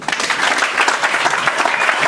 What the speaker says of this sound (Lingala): Et je vous demande d'applaudir.